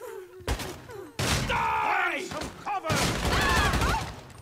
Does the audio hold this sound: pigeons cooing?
no